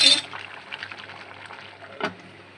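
Water is poured into a pot of cooking beef, with a short splashing pour at the start and another brief splash near the end over a quiet bubbling background.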